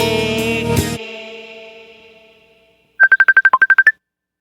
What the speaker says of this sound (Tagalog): may tumatawag